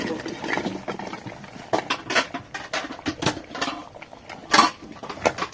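Raw jackfruit pieces go into a cooking pot of fried-down spice masala for a jackfruit curry, with irregular clatters, knocks and scrapes of utensils against the pot, fairly close.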